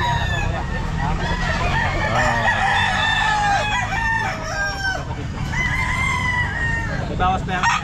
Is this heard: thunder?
no